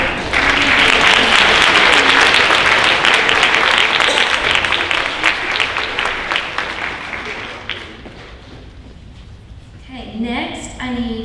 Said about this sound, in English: You'll please give these teachers and students a round of applause.